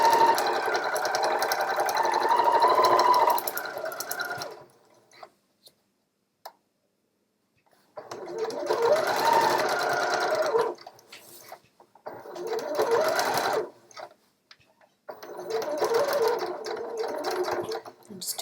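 A sewing machine back stitches the end of a hem in several loud bursts separated by short pauses.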